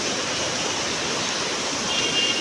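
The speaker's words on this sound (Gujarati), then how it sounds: "એટલો વરસાદ આવે છે ત્યાં રોડમાં બહુ પાણી ભરાઈ ગયો છે" Heavy rain pours down while floodwater rushes along a waterlogged road, a dense, steady hiss and wash that stays loud and even throughout with no voices.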